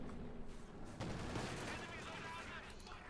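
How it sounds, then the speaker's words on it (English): In the Company of Heroes 2 video game, an Ostwind flak tank fires 37mm flak rounds as a faint, steady stream of rapid reports under a busy battle mix, with a commentator talking over it. "except this one shoots 37mm flak rounds"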